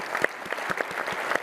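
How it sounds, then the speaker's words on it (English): A brief burst of applause from a modest audience at the Build-A-Thon 2025 event, scattered individual claps heard close and clear with no talking. "Give them one more round of applause."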